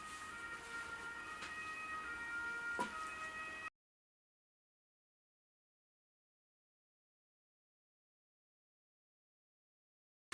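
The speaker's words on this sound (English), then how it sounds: "There's like 5 different sirens going off." Several sirens wail together with steady tones over a busy background for a few seconds, then the sound cuts out into silence.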